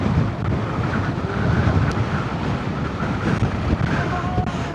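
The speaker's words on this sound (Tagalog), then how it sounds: "Ang lakas ng hangin." Strong coastal wind buffeting the microphone on a ride along the Lobo, Batangas coastline near Malagundi Point, a steady loud low roar with no break throughout.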